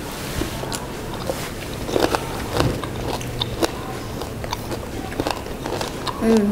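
Homemade cinnamon maple granola is crunched in milk, with a steady run of close, moist chewing and biting crunches and some muffled vocal sounds mixed in.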